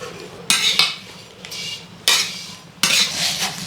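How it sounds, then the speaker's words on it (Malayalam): Mustard seeds roasting in a hot iron pan as a metal utensil stirs them: four sharp, close scraping strokes with short gaps between them, over a low background hum and no talking. "കടുക് വറുക്കാൻ പോവാണ്"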